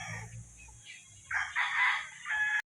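A rooster at a gamefowl breeding farm gives a full, loud crow in the second half, after quieter low clucking and shuffling at the start.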